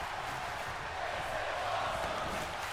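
A wrestling arena crowd in WWE 2K26 roars in a steady, dense wash of cheering, sustained at even volume throughout with no distinct voices standing out.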